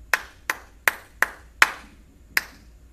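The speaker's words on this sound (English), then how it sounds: "Let's just clap the words of the first line." Six sharp, close hand claps ring out in an uneven spoken-word rhythm, two quick pairs then wider gaps, each crisp and isolated against a quiet room in a music lesson.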